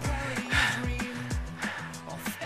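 A rider breathes heavily after an uphill bike climb in the Cordillera mountains, with close, rhythmic gasping breaths repeating steadily throughout.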